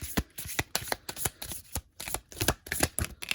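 Tarot cards shuffled by hand during a reading, a quick run of crisp riffling slaps in a steady rhythm, close and fairly loud with no talking over them.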